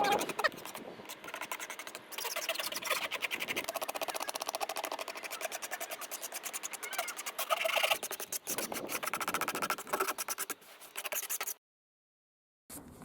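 A Stanley knife scrapes old residue off a polyethylene boat hull along the keel line, giving a steady rasping, rubbing scrape close by that runs continuously for about eleven seconds before stopping.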